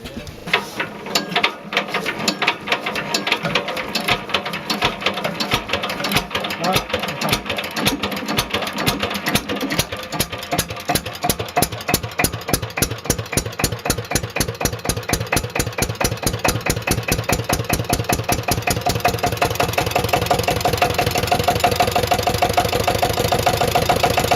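An engine cranks into life with loud, rhythmic mechanical pulses that quicken steadily over about twenty seconds, then settles into a continuous, even idle.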